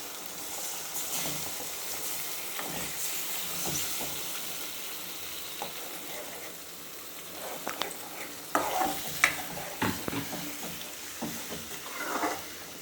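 Egg fries in a pan for egg fried rice while being stirred, giving a steady soft sizzle with scraping and clinking stirring strokes that grow more frequent and louder toward the end.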